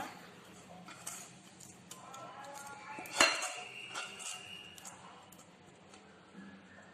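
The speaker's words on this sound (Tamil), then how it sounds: "இப்போ வந்து இந்த பாகு வந்து இந்த மாதிரி ஒரு பவுலில் வந்து ட்ரான்ஸ்ஃபர் பண்ணிக்கோங்க." Metal utensils and a bowl clink as sugar syrup for boondi laddu is transferred into it: a few soft knocks build to one sharp, bright clang, then quieter taps.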